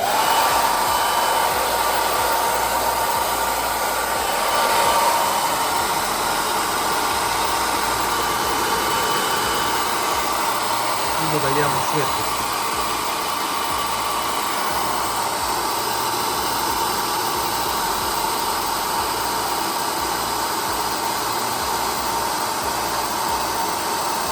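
A hair dryer running steadily off an Oukitel P2001 Plus 2.4 kW portable power station, a constant loud whooshing hum with a slight shift in tone partway through, no voices.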